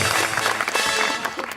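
A studio audience on the Pakistani talk show Had Kar Di claps in a brief, dense burst of applause, close and fairly loud, with a faint voice mixed in.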